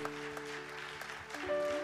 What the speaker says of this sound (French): pourquoi on n'a pas donné une bonne main d'applaudissement à toutes les personnes